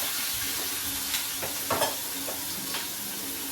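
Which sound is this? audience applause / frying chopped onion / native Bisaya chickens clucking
frying chopped onion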